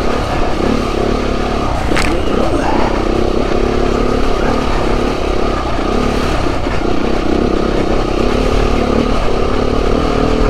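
A Beta 390RR dirt bike rides off-road on a trail. Its engine roars loud and close throughout, with constant throttle, rough clattering and scraping, and no talk.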